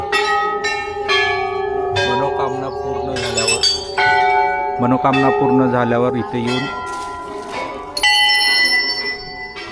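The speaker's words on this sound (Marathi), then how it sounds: "ह्या घंटा या लोकांनी बांधलेत." Many temple bells hanging at a Himalayan shrine in Uttarakhand are rung by visitors, giving repeated clear metallic strikes with long ringing tails that overlap through the clip, loud and close, with people talking underneath.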